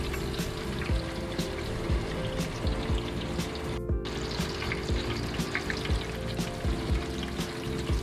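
Zucchini sizzles and crackles steadily frying in hot oil, with a dense, continuous spitting sound and scattered pops.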